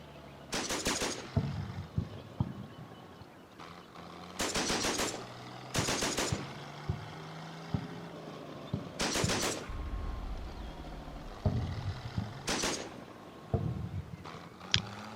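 Machine gun fire pours onto a building in the video game Combat Mission, set in Normandy: four or five short, sharp bursts separated by quiet gaps with a faint low background.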